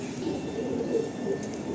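Kaldom breed Madrasi pigeons coo softly and continuously at close range, with low murmuring calls overlapping one another.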